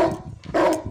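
A dog barks twice in quick succession, close and fairly loud, the yelps short and slightly whiny.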